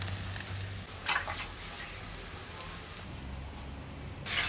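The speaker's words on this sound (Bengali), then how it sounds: "এবার কাঁচা লঙ্কা দিলাম।" Green chillies frying in hot oil in a pan for a village-style koi fish curry: steady close sizzling hiss with a few brief louder crackles and a burst near the end.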